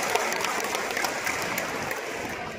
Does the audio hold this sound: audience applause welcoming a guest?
yes